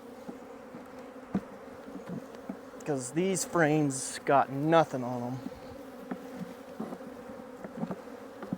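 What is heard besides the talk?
honey bees buzzing around open hive during beekeeping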